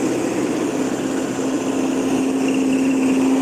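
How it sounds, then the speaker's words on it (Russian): A tractor driving past on a rainy city street in Yakutsk drones steadily, a continuous rumble with a sustained low hum, loud and close throughout, with no talking. "Ух, трактор едет."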